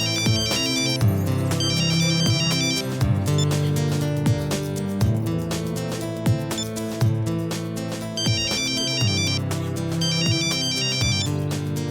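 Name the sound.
phone ringtone ringing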